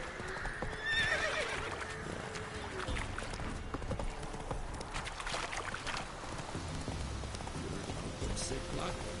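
The horse Roach galloping in The Witcher 3 video game: rhythmic hoofbeats with a short whinny near the start, over a rain-like hiss and game sounds, with brief talk.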